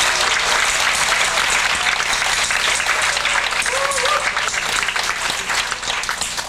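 Steady, dense clapping from a concert audience, continuous throughout and fading slightly toward the end.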